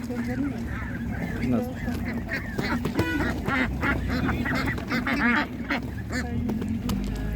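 Ducks, including a large Orvia breed, quack repeatedly at a busy village animal market, loud and close over steady crowd noise and someone talking.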